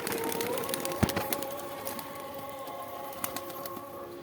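Kalpora Kaldum pigeons coo softly in a faint, steady murmur, with a sharp tap or flutter near the start and another brief knock later.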